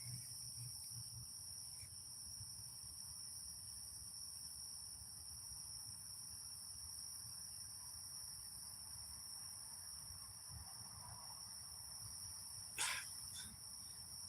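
Crickets chirping steadily outdoors at night, a constant high-pitched trill that holds throughout, fairly quiet, with a brief faint knock near the end.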